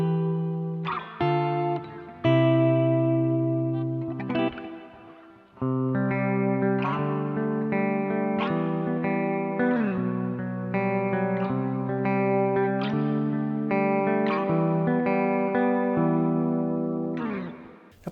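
An electric guitar played through a VOX MV50-BQ Boutique tube head amp with heavy reverb, a series of strummed chords and notes that bloom and blur into long, washy tails.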